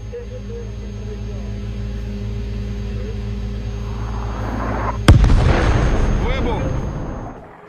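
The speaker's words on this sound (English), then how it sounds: "The helicopter in this video was shot down by a TOW missile." TOW missile striking a helicopter, a rising rotor and engine drone broken by one sharp, loud explosion that rumbles away, with faint voices underneath.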